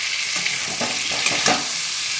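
Star fruit pieces sizzle in a pan with turmeric, Kashmiri red chili powder and salt while being stirred, a soft continuous fry broken by scraping stirs.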